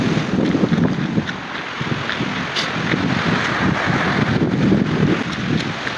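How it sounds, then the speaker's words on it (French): Strong, steady wind buffets the microphone on a rainy seashore beside a village in Riaba, with a continuous low rumble and hiss for the whole stretch and no voices. "Désolé du vent et des pluies"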